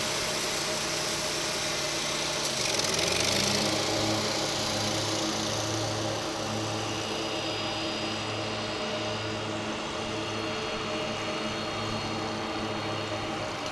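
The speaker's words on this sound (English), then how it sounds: "Hear the whine of the engines now." An MD-11 jetliner taxiing toward the runway at DFW Airport gives off a steady, loud engine roar with a sustained high whine and low droning tones, continuous and unbroken, with no talking.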